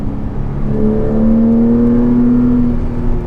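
A 2006 Porsche Cayman's engine revs in third gear on a road test, a loud, close, steady drone whose pitch climbs smoothly as the car pulls, with road rumble underneath and no talking.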